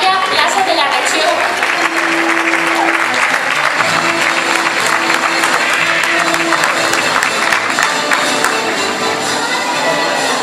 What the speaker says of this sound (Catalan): Despedim amb un fort aplaudiment a la Falla Plaça de la Regió.